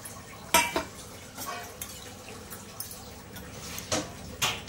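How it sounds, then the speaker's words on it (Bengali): Pakal fish is dropped into a pot of boiling potato curry, giving a few sharp clatters and splashes over a low simmering bubble. Quiet sounds of utensils follow between the knocks. "তরকারিটা ফুটে গেছে। এখন আমি মাছগুলোকে দিয়ে দিচ্ছি।"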